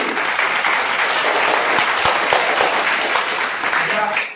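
Sustained applause from a studio audience at a Kaun Banega Crorepati–style quiz show spoof, greeting a correct answer; steady, loud clapping throughout with a few sharper claps mixed in, and a voice speaking over it.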